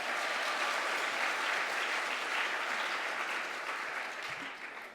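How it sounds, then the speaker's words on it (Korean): Church congregation applauding during a Sunday afternoon worship service, a steady wash of many hands clapping at moderate distance that tapers off near the end. "우리 하나님께 영광의 박수를 돌리겠습니다."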